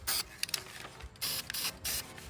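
An aerosol spray can hisses in several bursts onto an aluminum alloy wheel, with sharp onsets and short pauses between strong, close, broadband blasts.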